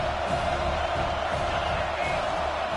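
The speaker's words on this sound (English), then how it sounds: "how nice is it to have the home crowd going absolutely bananas?" Home crowd at a college football game, Boise State at Notre Dame, keeps up a steady, dense roar of cheering and shouting throughout, broad and continuous without distinct individual voices.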